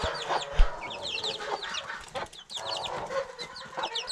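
Hens cluck steadily up close while month-old chicks peep in quick, high bursts throughout, with a brief thump early on.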